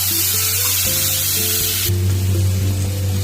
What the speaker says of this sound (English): Now adding tomato.